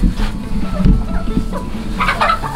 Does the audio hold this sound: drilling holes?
no